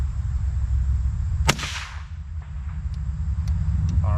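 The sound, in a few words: AR-7 survival rifle being fired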